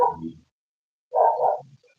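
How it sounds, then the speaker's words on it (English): A dog barks at close range in two loud, separate bursts, each quickly followed by silence. No one speaks. "There's the crazy dog, but the crazy dog normally only barks early in the morning"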